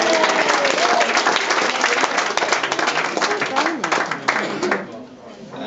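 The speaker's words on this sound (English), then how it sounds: "I think a round of applause should go to them as well." Wedding guests applaud after a best man's speech, a dense burst of many hands clapping with some chatter mixed in, steady for several seconds before tapering slightly toward the end.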